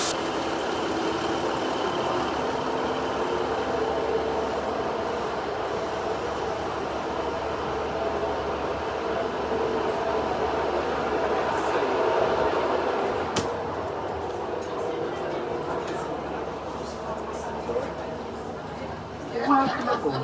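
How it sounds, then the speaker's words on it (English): Inside a Class 150 diesel train in Cornwall, a low engine drone and wheel rumble carry on steadily while passengers chatter and an onboard announcement plays over the top. "we're ticking off another class train, class 150 this time."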